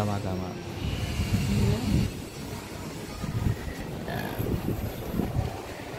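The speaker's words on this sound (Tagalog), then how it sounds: "Ang lakas ng hangin." Gusty wind roars across the microphone in uneven bursts near a construction site in Cebu, with voices in the background and a faint hiss of water or traffic.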